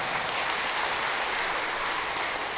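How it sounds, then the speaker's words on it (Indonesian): A church congregation at a Sunday children's Christmas Mass claps together in a steady, dense wash of applause that fills the room at even loudness throughout. "Tepuk tangan untuk kita semua."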